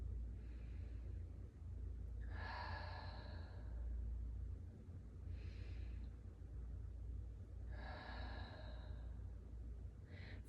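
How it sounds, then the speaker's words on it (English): Deep breathing in an exercise class, several slow, audible breaths with airy exhales spaced a few seconds apart, faint and close over a quiet low hum. "Take a few breaths here."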